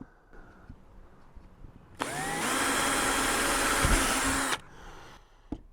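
A power drill whines loudly for about two and a half seconds, boring a pilot hole on a Jeanneau Merry Fisher 895 boat, then stops; quiet handling noises before and after.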